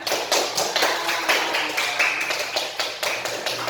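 A classroom of students applauds in rapid, uneven claps that stay fairly loud and steady throughout, with no speech over them.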